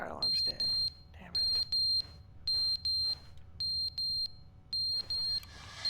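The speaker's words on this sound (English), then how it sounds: "Ah, the fire alarm's dead" A smoke alarm with a dead battery beeps in The Stanley Parable. Shrill, loud electronic beeps come in repeated pairs with short gaps between them, over a low background, and a voice talks briefly between the beeps.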